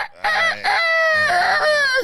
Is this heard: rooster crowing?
yes